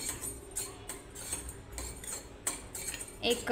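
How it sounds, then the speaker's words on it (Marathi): Poppy seeds dry-roasting over a low flame and stirred in a pan: soft, repeated scraping and light metallic clinks of a spoon every second or so, close and quiet, with no voices. "तर पहिली खसखस भाजून घेऊया आपण. तर खसखस भाजताना गॅसची फ्लेम एकदम लो ठेवायची."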